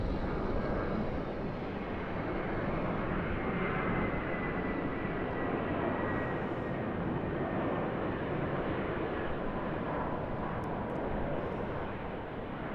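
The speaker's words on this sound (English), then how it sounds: "Jetstar Airbus A320." A Jetstar Airbus A320 jet at Sydney Airport gives a steady, broad engine roar that holds at an even level throughout, heard from a distance without talk.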